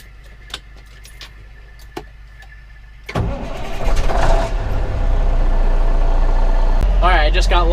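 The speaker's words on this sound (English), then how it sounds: "get the truck started" A truck engine cranks over and catches, settling into a loud, steady idle after a few seconds of quiet rattling, with keys jangling near the start.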